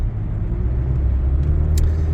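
A car driving home on the road, heard from inside as a steady low engine and tyre rumble with a brief faint high tick near the end, no speech.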